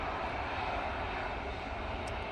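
A Jet2 Airbus A321neo jet airliner roars at Manchester Airport on a windy day, a loud, continuous broadband engine rumble with a steady hiss that holds throughout.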